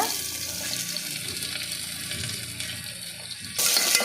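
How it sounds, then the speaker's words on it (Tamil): Three medium onions and curry leaves frying for mutton biryani make a loud, dense, continuous close sizzle that swells sharply near the end, with no speech. "ஆனியன் நல்லா வதங்கட்டும்."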